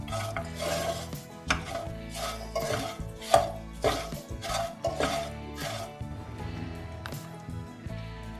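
Makhana tossed in melted jaggery in a pan, a string of soft scraping stirs and clinking utensil knocks in an irregular rhythm, close and fairly quiet.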